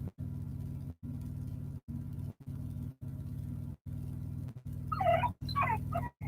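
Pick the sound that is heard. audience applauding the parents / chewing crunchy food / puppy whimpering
puppy whimpering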